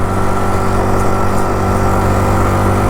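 An Axis M200 mini bike engine runs at speed while climbing uphill, giving a continuous buzzing drone at a steady, fairly loud level with no voices.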